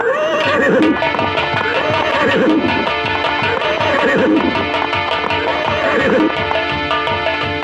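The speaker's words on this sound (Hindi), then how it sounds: "महाराज का घोड़ा प्यावन में प्रवेश कर चुका है" A horse whinnies repeatedly and loudly during a live nautanki stage show, with rhythmic hoof clip-clops and dense music-like background throughout.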